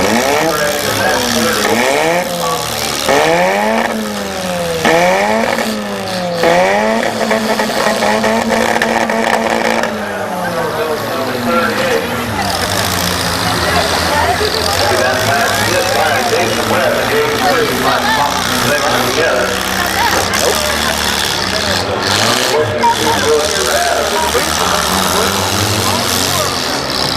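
A demolition derby car engine at a county fair night event fires up and revs hard, rising and falling in repeated loud pulls before settling into a rough, steady roar, with crowd noise and an announcer talking over it.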